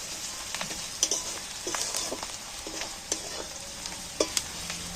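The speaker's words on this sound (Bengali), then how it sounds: "সেইটাকেও আমি একটু নেড়ে চেড়ে তেলটার মধ্যে ভেজে নিচ্ছি পেঁয়াজের সাথে একসাথে" Chopped onions with turmeric and chili sizzle steadily in hot oil, the gentle frying hiss broken by occasional scrapes and clicks of a spoon stirring the pan.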